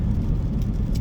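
Steady low road rumble and tire whir heard from inside a moving car in traffic, loud and continuous with no voices.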